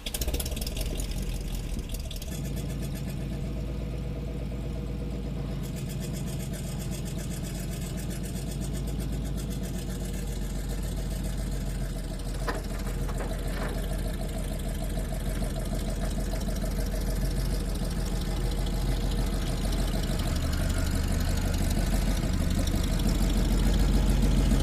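A 1948 Cadillac Series 75 with a 500 cubic inch engine rumbles steadily near a trailer, a continuous low idle that rises slightly toward the end with no talking.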